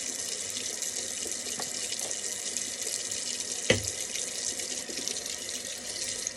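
Warm water runs steadily from a bathroom sink tap, a close, even hiss with a brief clunk partway through and no talking.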